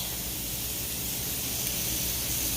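Hamburger patties sizzle on a griddle, giving a dense, even hiss that runs steadily and fairly loudly throughout, with no talking.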